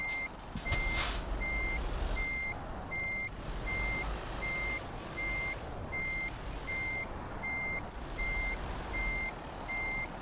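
Truck reversing beeps repeat in a steady rhythm while parking in Euro Truck Simulator 2, a clear intermittent tone over a rumbling engine, with a brief burst of noise near the start.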